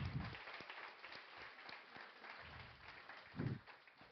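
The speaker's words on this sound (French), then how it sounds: "on l'applaudit chaleureusement, José Lavigueur, merci." Faint applause from a small audience for a guest at the close of a French-language talk show segment, a light patter of clapping that stays low and distant throughout.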